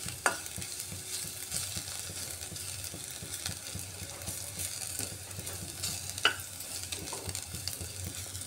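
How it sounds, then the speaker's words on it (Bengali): Garlic frying in oil in a pan while a curry of ash gourd is being cooked, with a steady low sizzle and occasional stirring scrapes and clinks, close and even throughout. "এইভাবে রসুনটাকে একটু সময় আমি ভেজে নিচ্ছি তেলের মধ্যে।"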